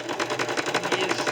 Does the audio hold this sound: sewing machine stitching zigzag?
yes